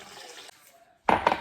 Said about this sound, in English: You're going to pour this into the freaking bowl of the mixer